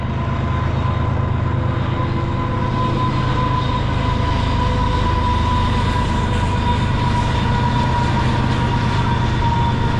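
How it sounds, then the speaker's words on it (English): A westbound intermodal train rumbles steadily past nearby on the CN Graham Subdivision, with a continuous low roar, droning engine hum and a faint tonal whine lasting the whole time. "So we got another train coming, another westbound."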